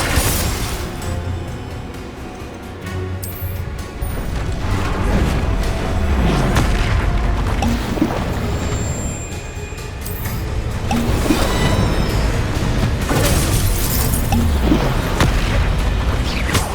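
Explosive Confringo spell blasts from Hogwarts Legacy going off repeatedly amid dense, booming combat noise, loud and continuous with rumbling low-end bursts throughout.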